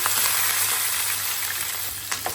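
Curry leaves and onions hit hot oil, with mustard seeds, for a home-style Sri Lankan lamb and potato curry, giving a close, steady crackling sizzle with a few sharper pops and no talking.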